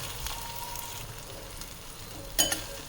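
Tomato frying in a pan with oil while being stirred, giving a steady close sizzle with a few sharper scraping stirs near the end, no voices.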